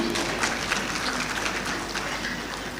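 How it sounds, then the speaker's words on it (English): Dense, steady applause from a seated audience at a university graduation congregation ceremony, a continuous wash of many hands clapping at a distance that slowly fades. "Yes, feel free to applaud."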